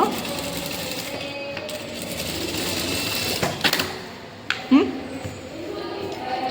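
A home sewing machine stitching a princess cut blouse, running with a continuous mechanical whir at moderate loudness while someone talks over it, with a few small clicks and bumps near the end.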